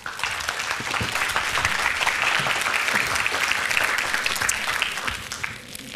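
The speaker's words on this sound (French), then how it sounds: "Je vous laisse donc applaudir le chef Stello Lestien." A live audience applauds steadily for a chef introduced before a cooking demonstration, dense clapping holding at a constant level throughout.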